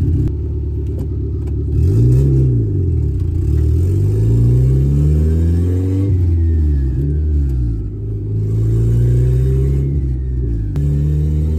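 Car engine with a Skunk2 short shifter fitted, heard from inside as it drives and climbs through the gears, pitch rising and dropping in several smooth revving sweeps, loud and close with no talk.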